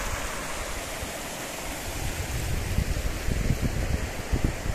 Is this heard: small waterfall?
yes